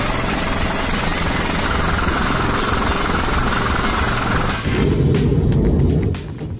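CH-53K King Stallion heavy helicopter carrying an F-35C during aerial refueling with a Lockheed Martin KC-130: loud, steady rotor and turbine drone throughout, shifting to a deeper, rumbling tone partway through before easing slightly at the end.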